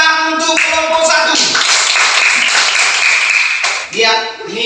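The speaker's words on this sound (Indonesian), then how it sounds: "Berikan tepuk tangan untuk kelompok 1." A classroom bursts into several seconds of dense clapping for group 1, loud and close, framed by a teacher's voice speaking just before and after.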